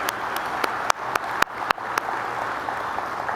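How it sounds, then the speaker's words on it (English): Guests at an annual meeting and dinner give a short round of applause, a soft wash of clapping with a few sharp, louder claps close by, fading away after about three seconds. "Please give them one more round of applause for helping us kick off this evening with a bang."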